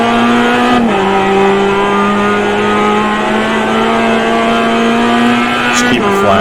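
Steady, loud drone of a GMX5 race car engine held at full throttle in iRacing at Summit Point, a sustained high-pitched tone that dips briefly near the start and again at the end as the revs shift.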